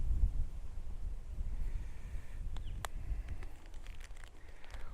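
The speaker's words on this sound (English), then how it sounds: "Got gusts of wind." Gusts of wind buffet an outdoor mountain spot, a steady low rumble and roar that swells and eases across the whole stretch, with a few faint higher ticks and chirps in the background.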